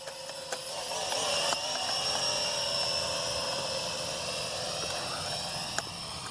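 Venom Pro GPS streaming drone flying near a harbour park, a steady high buzzing whine of spinning propellers that holds evenly at close range, with a few light clicks and no talk.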